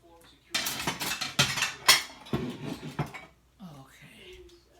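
A bowl being washed by hand in soapy water, with dishes and cutlery clattering in a sink in quick irregular knocks, close and fairly loud, followed by softer sloshing.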